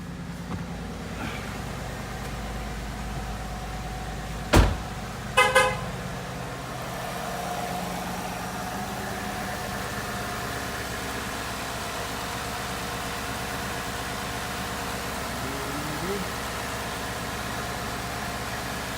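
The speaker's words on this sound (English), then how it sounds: "Installing the PMAS air intake." A 2015 Ford Mustang GT with a PMAS cold air intake idles steadily at a distance under a low hum, broken by a few short horn toots and a brief revving swell.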